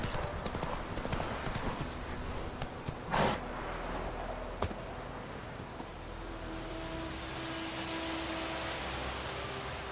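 Horse hooves clip-clop steadily along a road in The Witcher 3: Wild Hunt, a continuous rhythmic trot over game ambience, with a brief louder whoosh partway through and a horse faintly snorting.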